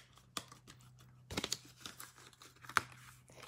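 Paper for punch art is being cut with a tool, producing soft, sparse crinkling and cutting scrapes with a few sharp clicks, quiet and close with gaps of near silence.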